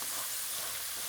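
Skillet corn sizzles steadily in a hot skillet as it is stirred, a close, even frying hiss with no voices.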